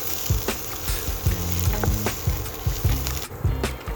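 Sliced onions frying in a pan for a spicy Indian-style chicken sausage fry, with a steady sizzle and repeated scraping, stirring knocks throughout, heard up close with no talk.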